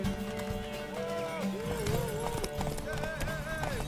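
Hooves of a horse gallop in a steady clip-clop rhythm in a Witcher video game, with a whinny rising over busy background music and game effects, loud and continuous.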